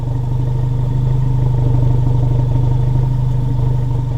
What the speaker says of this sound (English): as the car is just sitting here idling, listen to how you can hear the exhaust.